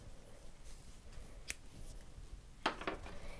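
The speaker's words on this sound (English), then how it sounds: "now I'm going to cut my yarn" Scissors snip through knitting yarn beside a finished brioche-stitch cowl, giving a short crisp cut followed by a quick burst of clipping sounds near the end, close and moderately quiet against a soft room background.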